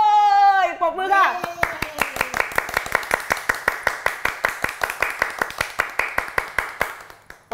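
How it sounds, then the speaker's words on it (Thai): Audience clapping at a live coaching seminar in Thailand, a steady run of sharp, rhythmic claps in unison that starts after a brief spoken phrase and carries on for several seconds, fairly close and loud. "ปรบมืออย่างกับว่าสอนจบแล้ว"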